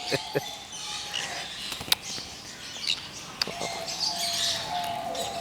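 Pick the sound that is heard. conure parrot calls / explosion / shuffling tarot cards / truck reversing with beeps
conure parrot calls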